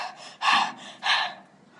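Two heavy, breathy gasps stand out over softer steady breathing, like someone panting and out of breath after running back indoors in a radio drama.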